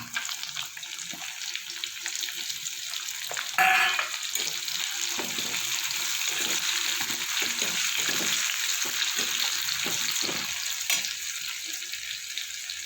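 Chopped onions sizzling in hot oil for chicken posto, a steady crackling fry with a brief stir or clatter near the start.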